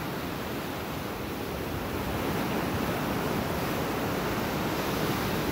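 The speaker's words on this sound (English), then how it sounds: "listen to that waves crashing and stuff" Steady roar of ocean surf in El Salvador with waves washing in continuously, a broad rushing wash close by, no voices.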